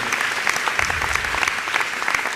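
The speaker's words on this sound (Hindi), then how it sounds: "आप सब जोरदार तालियां बजा दें" Audience at a Jain religious discourse and question session with a monk bursts into loud, dense applause that holds steady without a break.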